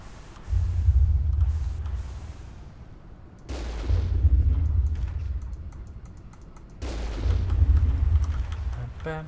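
Three heavy booming blasts, each followed by a few seconds of deep rumbling, spaced evenly with quieter stretches between them.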